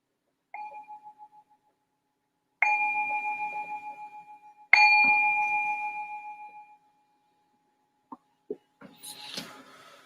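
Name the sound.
meditation bell rung to signal the start of meditation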